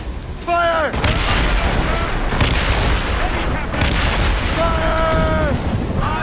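Broadside cannon fire from a sailing warship in the naval combat of the game Assassin's Creed Rogue, loud heavy booms rolling into a sustained rumble, with voices shouting over the barrage.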